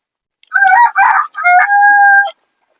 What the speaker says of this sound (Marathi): ही जी गावरान कोंबडी आहे ती सध्या अंड्यावर बसलेली आहे